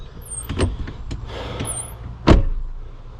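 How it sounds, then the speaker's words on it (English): An Audi Q7 door, under body repair and adjustment, is shut once with a loud solid thud about two-thirds of the way in. Softer handling clunks and creaks come before it, and an idling car or motor hums underneath throughout. "it's pushing the door down when you shut it"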